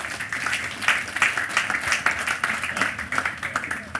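A church congregation claps together in a steady, dense burst of applause lasting a few seconds, loud and close with no talking over it.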